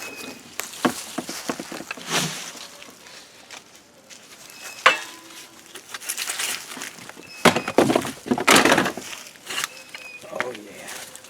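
Compost being turned and mixed by hand in a new compost bin, with irregular rustling, scraping and thudding of damp material in bursts at close range, some louder stirring strokes near the end.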